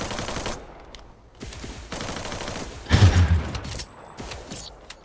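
Rapid automatic gunfire bursts from a mobile battle royale game, Garena Free Fire MAX, fired in loud clustered volleys with a heavier burst near the middle and short gaps between them.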